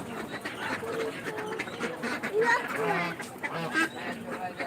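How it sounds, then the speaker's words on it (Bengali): Ducks and geese at a market, several close quacks and honks scattered through the clip over background chatter from people nearby. "এই যে এখানে হাঁস আছে"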